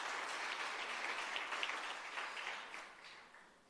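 Audience at a hybrid capacity-building workshop gives a round of applause, a fairly soft, even patter of many hands that gradually fades away.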